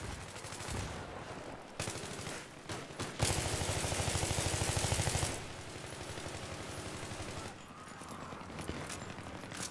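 Rapid gunfire from a Battlefield 3 match, with sharp repeated shots in bursts and a dense sustained stretch of firing near the middle, loud and close throughout with no talk.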